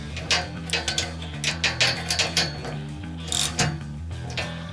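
A wrench ratchets a standard 1/2-inch bolt tight on a wooden string jig strut, sounding as a run of quick, close mechanical clicks in irregular bursts with brief pauses between strokes.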